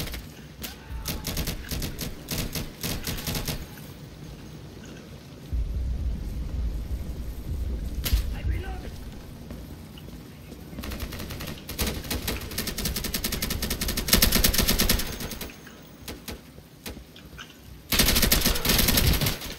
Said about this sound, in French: Mais mec, mais je te tire dessus!